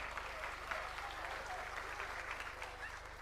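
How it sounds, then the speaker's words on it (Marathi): Loud, dense applause from a large audience at a Marathi political rally, a steady unbroken roar of clapping that holds throughout with no pauses. "जोरदार टाळी वाजवा."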